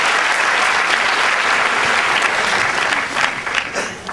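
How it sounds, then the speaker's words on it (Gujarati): A theatre audience bursts into loud, sustained applause as a stage hypnotist walks on at a live hypnotism show in Surat, the clapping steady and dense throughout with a slight swell near the end. "હું જોરદાર તાળીઓ સાથે મનોહરજીને સ્ટેજ પર આવવા આમંત્રિત કરું છું"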